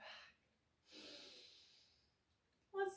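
Slow, audible breaths during a stretching routine, a soft breathy exhale and a longer, airy inhale, close to the microphone and alone, with a short sharp sound at the end.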